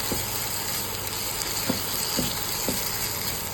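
Mixed vegetables and tamarind stir-fried in a pan without water give a steady, close hiss of frying, with a few soft scrapes from stirring over the sizzle and no talking.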